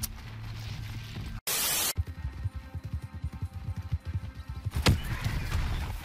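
Horse in the Red Dead Redemption 2 video game neighs and whinnies while hooves clip-clop in a steady rhythm, with a loud burst of noise cutting in briefly and a second whinny near the end.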